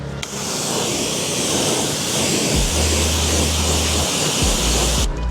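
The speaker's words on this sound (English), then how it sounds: "so I'll just spray it. And I'll come through with my brush, get the fenders, and then just rinse it down" A pressure sprayer rinses down a car during a wash, a steady loud broadband hiss of spraying water close by, with brief low thumps as the spray shifts and stops abruptly at the end.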